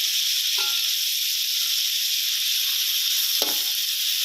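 Shrimp frying in a hot pan for a Thai stir-fried chicken and shrimp noodle dish, a steady, loud sizzle and hiss that runs throughout, with two brief clatters of the food being moved.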